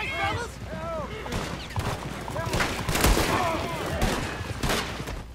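Repeated gunfire from Red Dead Redemption 2, several sharp shots scattered across the moment, mixed with game ambience and speech-like voices.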